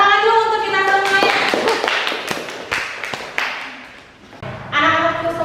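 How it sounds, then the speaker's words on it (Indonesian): Scattered hand clapping from a classroom of children, sharp separate claps over a few seconds with voices around them, fading briefly before picking up again. "tepuk tangan dulu untuk kita semuanya"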